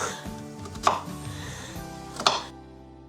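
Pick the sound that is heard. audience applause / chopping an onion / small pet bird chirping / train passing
chopping an onion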